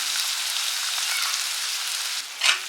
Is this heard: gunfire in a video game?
no